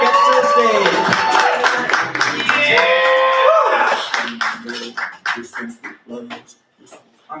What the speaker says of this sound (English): Clap till the poet gets to the